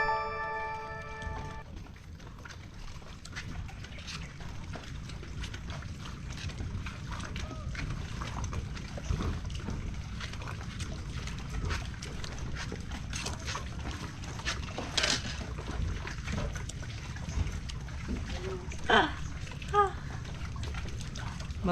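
A boat heading back out to sea gives a steady low engine rumble with wind and water washing around it, plus a few brief splashes and faint background voices throughout.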